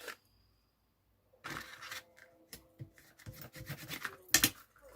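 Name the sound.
bone folder rubbing over glued paper carton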